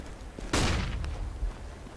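A single sharp burst of M249 machine gun fire in a video game, a loud crack with a rolling tail, followed by a smaller second report, with no talk.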